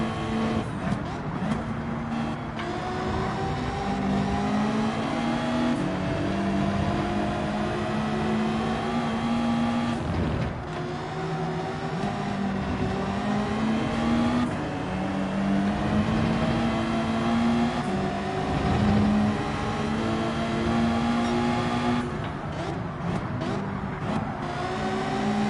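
Mazda race car engine in the Gran Turismo 7 racing game, droning steadily through the whole stretch with shifting pitch as it accelerates and runs among a pack of other cars.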